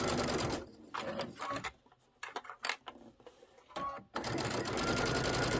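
Sewing machine stitching velveteen for a Christmas bench pillow, running in a steady buzzing burst, pausing into a few short stop-start stitches, then resuming a continuous loud whir, close up with no talking.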